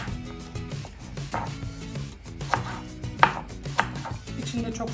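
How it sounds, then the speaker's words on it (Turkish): Bell peppers chopped with a knife on a board for homemade preserved menemen, a steady run of crisp close knife strikes with a few sharper louder hits, no talking. "Şimdi biberleri doğramayla başlıyorum."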